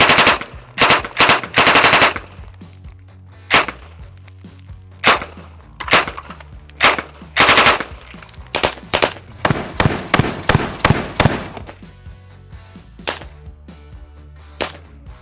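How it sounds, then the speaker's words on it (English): A machine pistol firing 9x18 Makarov rounds at targets lets off loud, sharp shots, some single and some in quick bursts, with a longer rapid string near the middle. The shots ring out close and alone, with no talking. "it is a machine pistol, so why not give us a couple of targets?"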